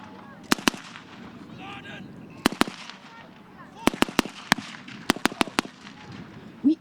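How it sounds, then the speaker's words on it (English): Sharp mortar blasts at an outdoor military show battle reenactment, a dozen loud bangs in irregular clusters, some in quick pairs, over steady crowd murmur and talking. "The flashes that you can see are also the mortars going off"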